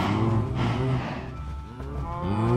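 Cows lowing in Minecraft, several drawn-out moos overlapping one after another at close range with a steady game backdrop and no talk.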